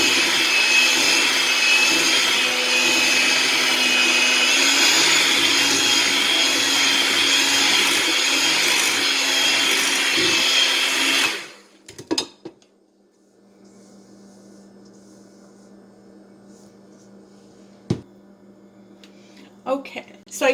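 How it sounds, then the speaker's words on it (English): An electric mixer churns stiff cherry bar dough, a loud steady motorized whir that runs for about eleven seconds and then cuts off, leaving quiet room tone with a few faint clinks. "Okay, so I finished mixing this with my mixer."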